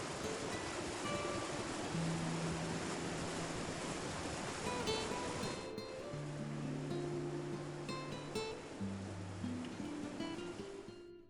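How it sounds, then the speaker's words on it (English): Shoshone Falls, a 212-foot waterfall in southern Idaho's high desert canyon, roars as a dense, steady wash of falling water, continuous and broad with no pauses, while faint musical tones sit over it. "Rising 212 feet from the canyon floor, Shoshone Falls is even taller than Niagara, a roaring marvel in the high desert of southern Idaho"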